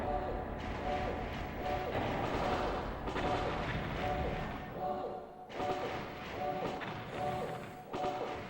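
Gunfire and heavy impact thuds in the PS1 game Armored Core, dense and continuous with a rumbling low end, several sharp bursts standing out against a steady mechanical din.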